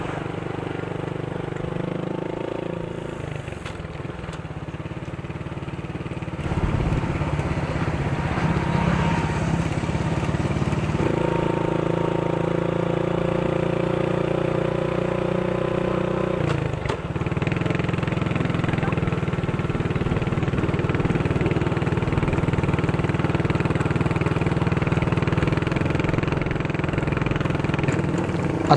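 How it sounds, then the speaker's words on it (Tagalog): Bryce's motorbike on the road, its engine droning steadily throughout with a knocking fault that grows louder, the pitch stepping up and down with changes in throttle and speed. "unti-unting lumalakas ang lagutok na tunog sa bike ni Bryce"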